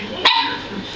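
A dog barks once, a short, sharp bark close by, right alongside a voice in a home.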